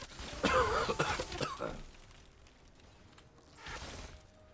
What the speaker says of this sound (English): Sorry if you guys don't like coughing too much.